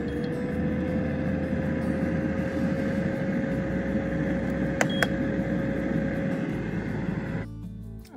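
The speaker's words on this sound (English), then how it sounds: "Air fry this." A countertop air fryer cooking food, a steady fan whir and electrical hum running evenly, two faint clicks midway, then the motor winding down near the end.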